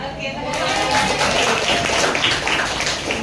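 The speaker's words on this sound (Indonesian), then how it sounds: "Tepuk tangan buat kita semua." Applause from a class of students in a classroom, a dense, steady patter of many hands clapping at once, filling the room close by for several seconds.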